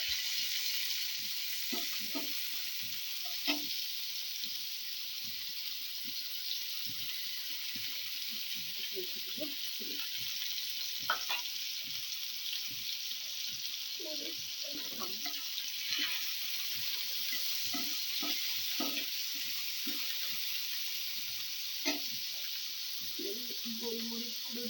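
Chicken pieces fry in white oil in a pan, a soft continuous sizzle with occasional stirring clatter and scraping, fairly quiet.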